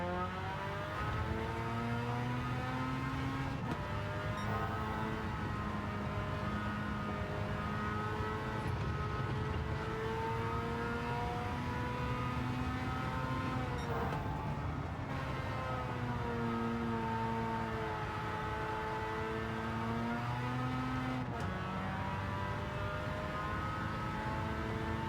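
Engine-swapped 1991 Suzuki Cappuccino racing in Gran Turismo 7, its engine note rising and falling steadily through gear changes over the whole stretch, loud and continuous with a slight siren-like harmonic whine.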